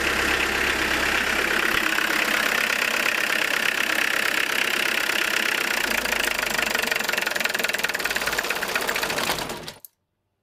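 A diesel car engine runs after an injection-timing adjustment, warmed up inside a closed garage. The idle is steady, loud and close, with a dense, rattling clatter that holds for about ten seconds before cutting off abruptly.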